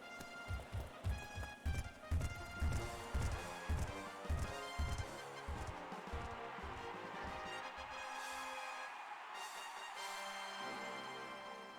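Racehorses gallop on a track in Gallop Racer 2004, with rapid rhythmic hoofbeats loud and close at first that fade into a steady rumble of crowd and game ambience.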